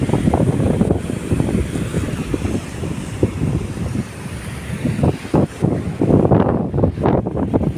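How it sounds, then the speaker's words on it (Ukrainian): Strong wind buffets the microphone at the seaside, producing loud, gusty rumbling bursts that rise and fall irregularly and grow heavier toward the end. "тут такий вітер"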